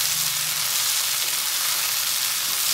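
Chopped capsicum hits a hot pan for chana chilli and fries with a loud, continuous, hissing sizzle that stays even throughout.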